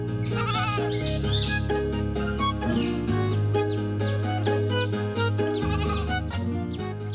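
A small lamb bleats in repeated drawn-out, wavering cries, loud and close, set against a sustained tonal background with no talking.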